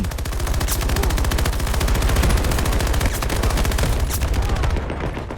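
A PKP-BP machine gun in Battlefield 2042 fires one long, unbroken, rapid burst, loud and close, with no talking.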